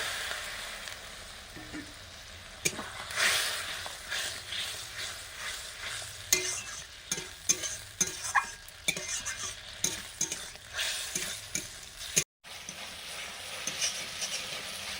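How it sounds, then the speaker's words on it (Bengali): Masala paste of cumin, garam masala and water being stirred and sautéed in a pan while cooking banana flower curry, with steady soft sizzling and repeated scraping stir strokes throughout. "জল দিয়ে মশলাটা কষে নেব"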